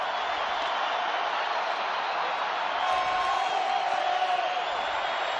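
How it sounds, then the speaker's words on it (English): A football stadium crowd roars in a dense, continuous wall of cheering, swelling slightly midway, with a broadcaster's voice faintly underneath. "Crowd is juiced early."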